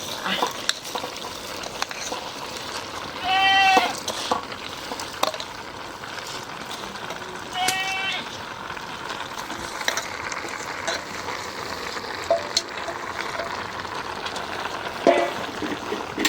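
Rice and mixed-vegetable khichuri is stirred in a pot outdoors, a low, continuous sizzle with intermittent scraping and clatter, and brief voices heard faintly in the background.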